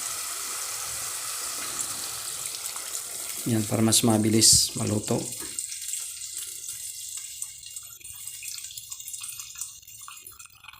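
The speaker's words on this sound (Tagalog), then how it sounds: "Ngayon, lalagyan natin ng tubig, guys. Ito ay hot water to." Hot water pours into a pot of Filipino tinolang manok, chicken soup with papaya and malunggay, in a home kitchen. A steady watery splashing runs throughout, and a person speaks briefly over it partway through.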